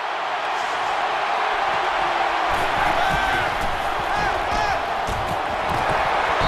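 Stadium crowd noise from an American football video game, a steady loud roar of yelling and cheering that runs through the whole stretch without any clear commentary over it.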